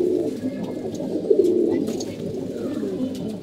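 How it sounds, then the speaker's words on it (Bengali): Red-geared Babu pigeons coo in low, rolling throbs, close and fairly loud, with a soft continuous murmur from the flock and no talking. "এই যে কবুতর দেখতে পাচ্ছেন লাল গিয়ারের বাবু কবুতর"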